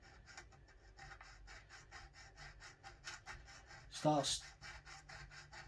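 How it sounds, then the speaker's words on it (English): A metal file rasps across a high fret on an electric guitar in quick, rhythmic back-and-forth strokes, close and fairly quiet, while a person speaks briefly. "filing that part of the fret that was high"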